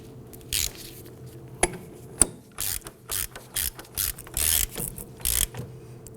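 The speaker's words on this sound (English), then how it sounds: "Let's go ahead and grab our ratchet and we'll snug that down." A hand ratchet clicks in short bursts, punctuated by sharp metallic knocks, as it snugs down a rear axle nut on a 2008-2011 Ford Focus during a brake job; the sound is close and fairly quiet, with no talking.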